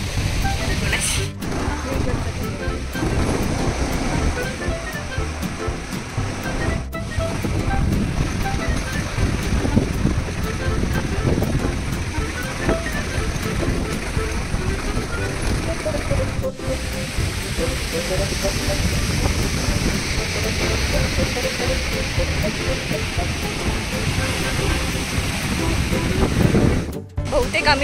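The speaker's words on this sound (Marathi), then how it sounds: "समुद्र परत एकदा खवळलेला आहे" Rough sea surf roars steadily at Mirya Beach in Ratnagiri, a loud continuous wash of breaking waves with wind buffeting, as voices talk faintly beneath it.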